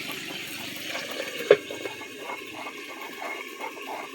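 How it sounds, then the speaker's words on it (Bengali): Water is poured into meat cooking in a pan, a faint, steady liquid rush and sizzle with a single small utensil clink partway through and no voices. "মাংসটা একটু অল্প করে জল দিয়ে ভালো করে নেড়ে অল্প অল্প ঢাকা দিয়ে অল্প অল্প করে কষিয়ে নেব।"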